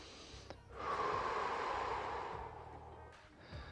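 A person forcefully exhales during a shoulder internal-rotation stretch, a long, strong breath out through the mouth lasting about two seconds, with short sniffing inhales before and after, close and without talk.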